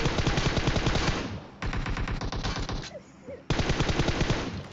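Automatic gunfire in the video game PUBG: loud, rapid bursts of shots come in three long volleys separated by short pauses, close and dominant.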